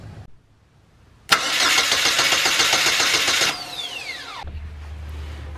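Car engine cranked with a remote start switch on the starter: a brief silence, then loud rapid starter cranking for about two seconds before the engine catches and settles into a low, steady idle.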